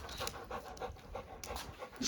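A dog pants in quick, steady breaths close by, with a brief louder rustle at the end.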